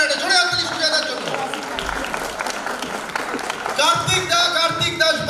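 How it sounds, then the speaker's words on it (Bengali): An audience claps loudly and continuously at the trailer launch for the Bengali film Boomerang, mixed with an amplified voice speaking over a sound system throughout. "একটা জোরে হাততালি সুজয়দার জন্য।"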